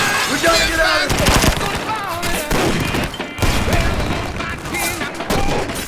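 Rapid machine gun fire rattles in loud bursts during an action movie battle scene, with booms and crashes mixed in and shouted voices under the gunfire.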